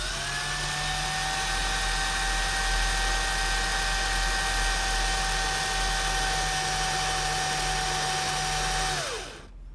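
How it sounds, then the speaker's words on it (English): A power drill spins a barrel holder piece as a surface is flattened, giving a steady close motor whine with a constant pitch that runs alone for about nine seconds before it winds down. "we can just slot this right back into the drill"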